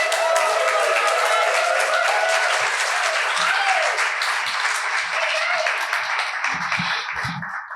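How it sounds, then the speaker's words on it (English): An audience gives sustained, loud, dense applause that runs steadily and tapers slightly near the end, with faint voices underneath. "Let's give a big round of applause for Brian Prairie."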